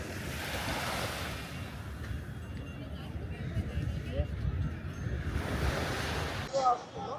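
Sea waves at Marine Lines, Mumbai in the evening, a broad rushing surf mixed with wind buffeting the microphone, rising and falling over several seconds, with a voice speaking over it.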